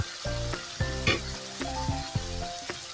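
A pre-made spice paste frying in hot oil for an ilish fish head and taro leaf curry, giving a loud steady sizzle with clinks and scraping from stirring and strong tonal ringing throughout.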